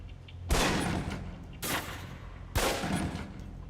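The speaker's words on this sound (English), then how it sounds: "Equip the pistol and aim down range and take some shots at the target." Three pistol shots fired at a target in the video game Fallout New Vegas, each a loud, sharp crack with a lingering, noisy tail, spaced roughly a second apart.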